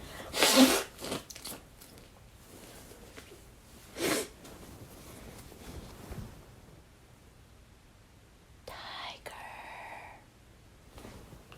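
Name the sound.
sneeze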